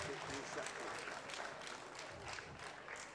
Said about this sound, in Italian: lo vedo applaudire ma contento